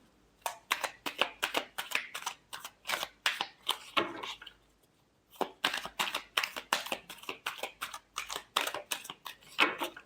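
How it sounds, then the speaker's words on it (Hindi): Tarot cards are shuffled by hand in quick bursts of crisp riffling and flicking, close and fairly loud, with a brief pause midway before the rapid shuffling resumes to the end. "Last shuffle."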